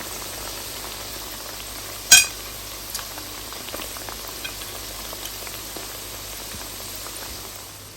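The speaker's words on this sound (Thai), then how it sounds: "จะทอดมันหมูกันแล้วเนาะ" Pork curry fishcakes (tod man) frying in hot oil, giving a steady close sizzle and bubbling throughout, with one brief sharp crackle early on.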